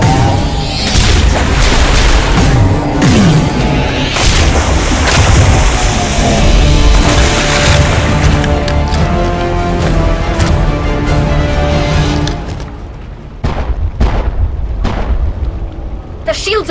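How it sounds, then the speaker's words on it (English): Heavy booms, bursts and gunfire of a Mass Effect battle against Geth roar loud and dense and then thin out near the end, with voices shouting orders over the combat. "Left flank! Suppressing fire!"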